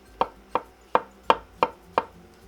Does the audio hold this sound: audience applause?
no